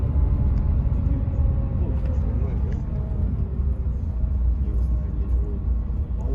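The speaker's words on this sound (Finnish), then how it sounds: "Hypättiin Flixbussiin." Flixbus coach driving through the streets of Tallinn, heard from inside as a steady low engine and road rumble with shifting tonal whine, continuous and close, with people talking over it.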